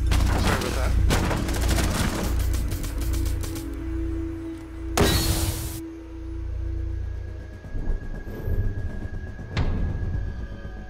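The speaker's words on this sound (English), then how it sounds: "There was still shooting going on." Gunfire in Rainbow Six Siege on the Villa map, dense rapid bursts of shots and heavy impacts early on, then a sharp loud blast and scattered fainter shots afterward, with occasional voices underneath.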